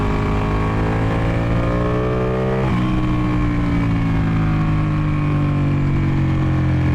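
A Ducati 899 Panigale sport motorcycle ridden fast, its engine droning loud and close throughout, with a sharp gear change partway through and the pitch climbing again as it accelerates, no talk.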